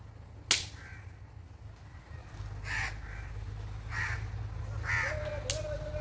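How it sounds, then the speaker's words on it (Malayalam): Several crow caws, loud and fairly near, come from a tree near a nest, with a sharp crack at the start and a short whistle-like tone near the end over a steady low outdoor hum. "കാക്ക."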